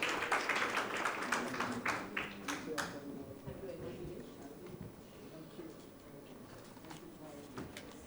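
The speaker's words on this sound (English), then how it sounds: "Can we have a round of applause, ladies and gentlemen, for the panel?" A conference audience applauds a panel, with dense clapping at first that thins out after a few seconds into scattered claps and murmuring voices.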